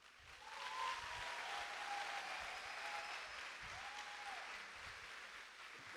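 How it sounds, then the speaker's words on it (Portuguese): Congregation at a church conference in Brazil applauding after a pastor's address, a sustained, fairly distant wash of clapping with faint cheering tones drifting over it, at low level throughout. "Mais palmas, queridos"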